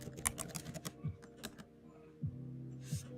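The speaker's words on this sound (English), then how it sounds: "let's go and type in graduation" Computer keyboard keys tapped in short irregular clusters of clicks, fairly close and moderately quiet, with a low steady hum running underneath and no talking.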